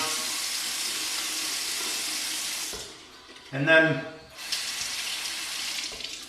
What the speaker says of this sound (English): I'm just going to wet my face right now. Give it a nice wetting down.